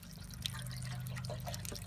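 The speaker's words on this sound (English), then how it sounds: "we're pouring equal amounts of water and equal amounts of soil" Water poured onto a soil sample during an infiltration test in eastern Boulder County, faint close trickling and dripping with scattered small splashes over a low steady hum.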